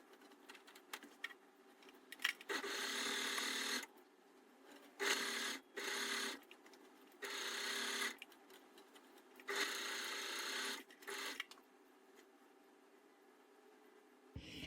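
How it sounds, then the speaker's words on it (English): An overlocker stitches up the sides of fabric grape bags in several fast mechanical bursts of a few seconds each, separated by short quiet pauses, close and fairly loud in a quiet room. "the only next job then is to individually on each bag overlock up the sides"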